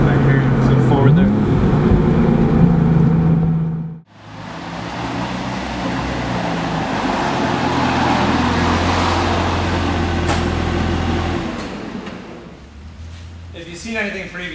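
Porsche 911 Turbo pulling a full roll-on in first gear, a loud, steady engine and road roar heard from inside the car, with a brief drop near the start before the surge builds and then eases off.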